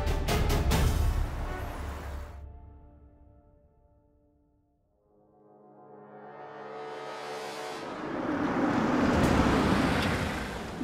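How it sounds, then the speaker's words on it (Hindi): Outside a house a car drives past, its engine noise fading out to near silence, then another vehicle swells and rumbles in before fading again. "गाड़ी की आवाज"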